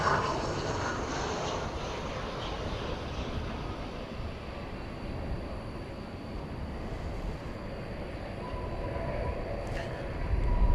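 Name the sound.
aircraft at DFW Airport at night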